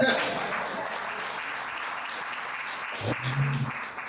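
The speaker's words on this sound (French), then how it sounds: "applaudissez-les quand même." Audience applause at an anniversary celebration for a consulting firm, a steady wash of clapping lasting several seconds with a brief swell near the end.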